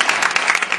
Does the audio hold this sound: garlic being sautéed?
no